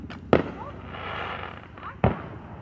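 Fireworks lit by hand at a July outdoor celebration, two sharp close bangs spaced apart with faint crackle between them over background chatter.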